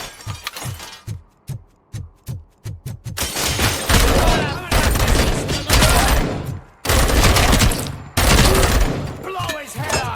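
Gunfire from the video game RoboCop: Rogue City: a run of rapid single shots builds into sustained, dense automatic fire with breaking and shattering debris, loud and near, broken by brief gaps.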